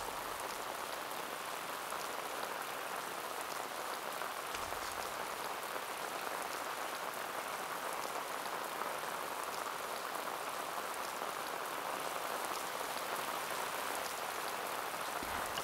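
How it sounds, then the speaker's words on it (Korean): Heavy rain pours steadily and noisily onto a traditional Korean hanok, a dense, continuous wash of drops that stays unbroken and even for the whole stretch, with no voices. "잠시 멎었던 비가 다시 소란스럽게 내리기 시작한다."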